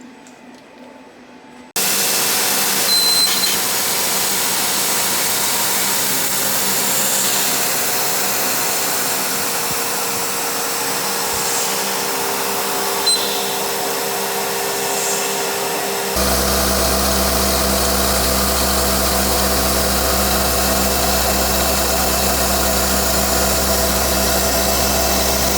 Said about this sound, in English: we can go ahead and machine this and put a nice little chamfer on it so it doesn't hurt anyone's fingers